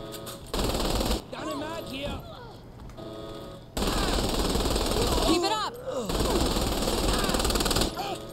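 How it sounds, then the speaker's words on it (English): Upgraded assault rifle in Saints Row The Third fires in long, rapid automatic bursts, loud and close, with brief pauses between strings of shots and a game soundtrack running underneath. "let's try the, the assault rifle now. It's upgraded."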